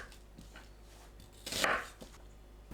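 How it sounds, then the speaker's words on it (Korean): A knife cutting onion into bite-sized pieces on a board, a few soft knocks followed by one louder, longer slicing crunch, near and quiet, with no one speaking. "양파를 한입 크기로 썰어줍니다."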